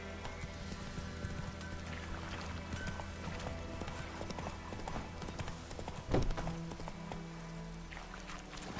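Geralt's horse Roach galloping in The Witcher 3, a steady rhythmic clip-clop of hooves under ambient game music, with a brief louder thump partway through and faint talk.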